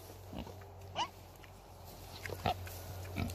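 A farm pig oinks and grunts several times in irregular bursts, close and fairly clear over a low steady hum of the surroundings.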